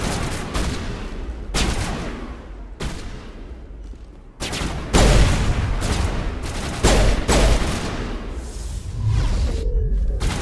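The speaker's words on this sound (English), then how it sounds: "Just throw a grenade in there, close range is fine." Rapid gunfire bursts and booming explosions from the Mass Effect game, including a close-range grenade blast, loud and dense across the stretch with brief gaps between volleys.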